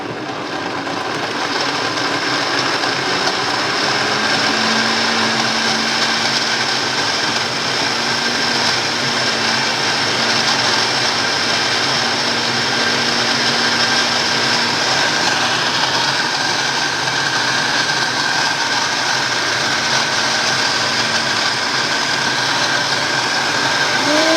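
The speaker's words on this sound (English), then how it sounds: "Now we're gonna blend this again" A blender runs at high speed through soaked dates and wet ingredients for an oil-free vegan carrot cake, a loud, steady motor whine with a rough churning texture that holds unbroken for over twenty seconds, with no one speaking.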